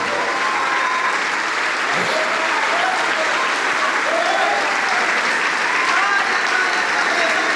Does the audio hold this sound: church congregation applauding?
yes